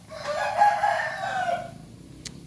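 A dove kept by a bird breeder gives a single coo at a home aviary in the evening, a close, sustained tonal call lasting about a second and a half before fading out.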